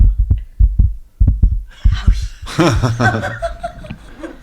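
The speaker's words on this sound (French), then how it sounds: "On dirait vraiment un bruit de cœur." A low, thumping pulse resembling a heartbeat sounds in uneven double beats, loud and close, then gives way to laughter and chuckling.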